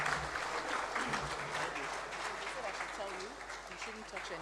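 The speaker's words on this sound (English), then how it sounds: "let's continue with that applause as we bring him to the stage at this time." Seminar audience at a trade event in a hall breaks into sustained applause, dense steady clapping at moderate level that slowly tapers, with faint speech underneath.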